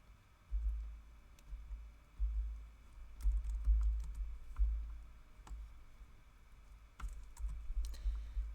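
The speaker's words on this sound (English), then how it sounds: "let me type that" Keystrokes on a computer keyboard come in irregular bursts of close, soft clicks with brief pauses between runs, heard alone.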